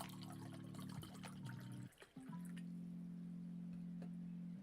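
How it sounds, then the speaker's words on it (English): Lemon water poured from a container, a steady liquid stream filling a glass with a brief gap midway before resuming, close and fairly quiet, with no talking. "let me pour a fresh batch of lemon water."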